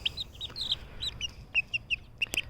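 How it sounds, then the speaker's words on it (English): Chickens being handled give a run of short, high squawks and clucks, about a dozen quick calls in irregular bursts, close and fairly clear over a quiet background with no talk. "You'll hear a little squawking out of them"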